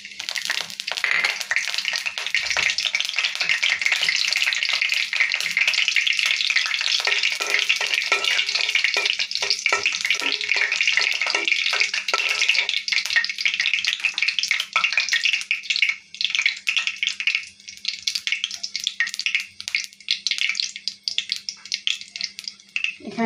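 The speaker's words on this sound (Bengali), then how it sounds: "এখানে কিছু শুকনো মরিচ পিস করে নিয়েছি, ভেজে নেব।" Broken dried chilies fry in oil with a loud, dense crackling sizzle that holds steady for a long stretch, then thins into sparser pops toward the end.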